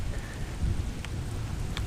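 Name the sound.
heavy rain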